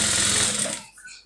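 A sewing machine runs steadily while stitching the lining of a lace dress, its whirring drone close and loud before trailing off into quieter handling noise near the end.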